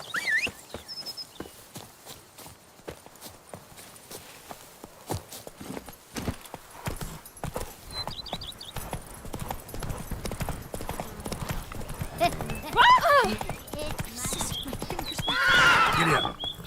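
Horse hooves clip-clopping and a horse neighing in The Witcher 3, the hooves a rapid, steady rhythm close by, with whinnies rising later and a voice speaking briefly.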